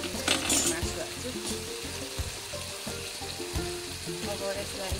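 Meat for Nepali wachippa sizzles in a pan, with a steady moderate crackle and rhythmic stirring scrapes throughout.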